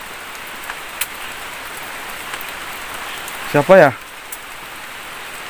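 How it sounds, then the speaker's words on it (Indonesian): Heavy rain pours down outside a hut, a constant close hiss of drops on surfaces with a few louder splashes, and a voice briefly speaks partway through. "Ini hujannya tambah deras teman-teman."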